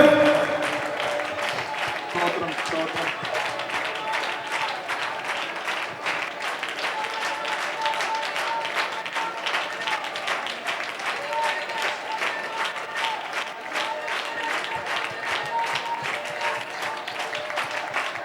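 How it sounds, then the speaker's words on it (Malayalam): A congregation at a fasting prayer meeting claps hands in steady rhythmic unison, a continuous dense patter filling the room, with a voice urging them on over the clapping. "പോരാ പോരാ, കൈ നന്നായി അടിച്ചാട്ടെ"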